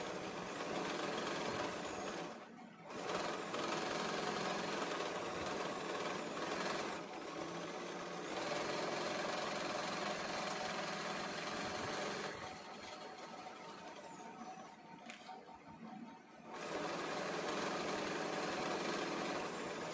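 A Singer 2250 sewing machine stitches piping with a steady, fast mechanical whirr and rattle, running continuously close up with a few brief pauses between bursts.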